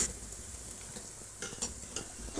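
Spices including cumin, garam masala, black pepper, dried coriander, cinnamon and black cardamom being stirred into haleem in a pot, quiet scraping and clinking strokes over a faint sizzle.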